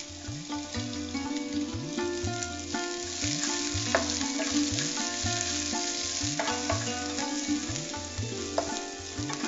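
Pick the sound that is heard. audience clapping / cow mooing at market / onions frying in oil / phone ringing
onions frying in oil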